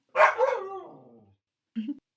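A dog gives a loud, close bark that trails into a drawn-out howling whine, then a short softer yip after a brief pause.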